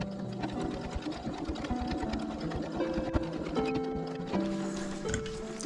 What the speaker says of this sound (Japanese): こちらも同じように1センチの縫い代で縫います